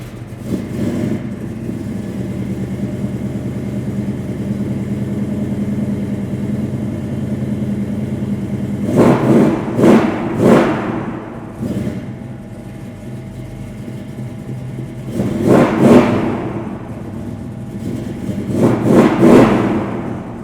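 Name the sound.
1963 Chevrolet Nova restomod engine revving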